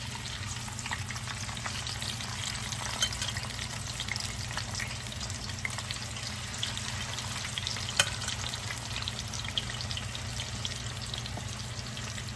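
Potato fries frying in hot oil, a steady dense sizzle that holds evenly throughout with faint crackles and stirring, close and continuous with no talk.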